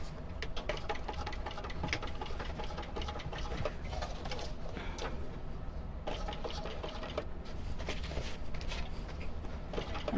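A sewing machine back stitches the straps of a fabric shoulder bag, a continuous close mechanical chatter with rapid needle strikes and slight pauses and speed changes while reinforcing the seams.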